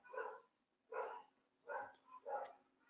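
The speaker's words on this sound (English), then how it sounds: "my dogs do not like the people walking past my house. They're barking like crazy right now." Several dogs bark in four loud bursts at a house as people walk past outside, fairly close, with short pauses between the barks.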